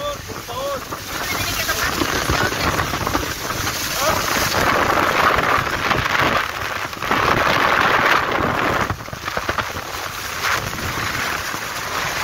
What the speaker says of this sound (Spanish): Y llueve, y llueve.